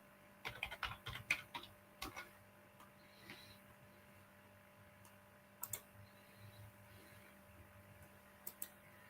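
Fingers tapping on a computer keyboard in a quiet room, quick bursts of light clicks with pauses between, close and soft over a faint electrical hum.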